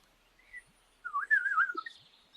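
A person whistles a wavering, bird-like call imitating bird language, a short faint chirp followed by a longer warbling trill, close and alone in quiet surroundings.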